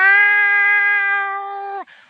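A human voice mimics a cat's meow outdoors on a mountain, with one long, steady, high-pitched tone that bends downward at the end, close and loud.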